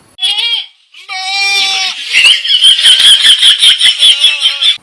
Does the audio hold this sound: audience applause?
no